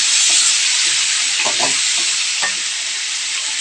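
Curry sizzling loudly in a pan as water is added, a steady broad hiss and crackle throughout with faint stirring clinks and no talk.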